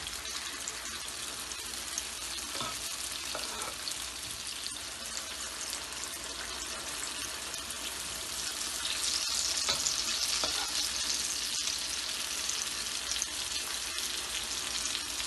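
Lentil batter dumplings for dahi bara frying in oil, a close, continuous crackling sizzle with scattered sharp pops, growing a little louder and brighter partway through as more batter goes in.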